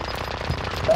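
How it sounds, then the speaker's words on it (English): Rapid automatic gunfire from Call of Duty: Modern Warfare, two players firing at once, a dense rattle of overlapping shots in a brief burst, with a voice speaking over it. "Imagine two people shooting at me."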